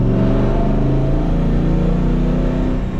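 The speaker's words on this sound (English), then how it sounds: "as the car accelerates faster, it's going to add more and more load to the dyno" A car engine pulling hard on a chassis dyno, a loud, continuous close-up roar with layered rumbling tones that holds steady under load throughout.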